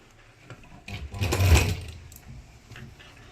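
A sewing machine stitching cloth runs in one short burst, rising and falling over about a second, close by with no talk over it.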